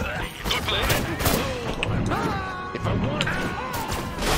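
Rocket blasts and gunfire in the Destroy All Humans video game, a dense close fusillade of shots and crashing impacts with laser-like whines, continuous and loud, with a voice talking over it.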